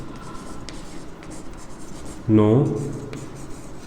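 Chalk or marker writing on a board during a math lesson, a short scratchy stroke burst standing out briefly against quiet room tone, close and clear.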